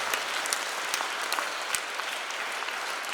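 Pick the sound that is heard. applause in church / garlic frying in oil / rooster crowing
applause in church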